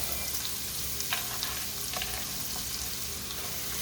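Garlic and ginger stir-frying in a hot pan for spicy shrimp and pork fried rice, a continuous close sizzle with a few clicks and scrapes of tossing, steady and without talk.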